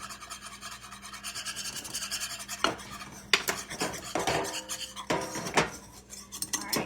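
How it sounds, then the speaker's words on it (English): A whisk scrapes and rattles quickly against a bowl while stirring a xanthan gum mixture, a close, busy rhythmic clatter with brief harder strikes and no voices. "you really gotta whisk this stuff"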